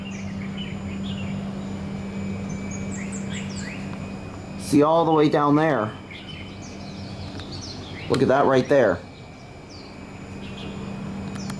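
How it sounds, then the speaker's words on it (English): Birds chirp faintly in the daytime from a hotel balcony at Sun Moon Lake Resort in Nantou, Taiwan, with scattered short calls over a steady background hum. A person talks twice in between. "Listen to the birds singing."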